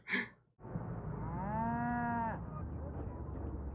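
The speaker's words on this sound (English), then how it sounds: "Oh, did they hit a cow?" A cow in a film scene gives one long, loud, drawn-out moo that swells and then fades, following a brief sharp burst and with rumbling background underneath.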